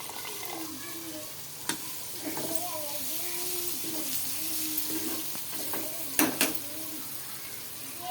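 Flat bean fry curry is stirred in a pan after water is added, giving a steady sizzle with scraping and clinking of the spoon, while someone talks over it.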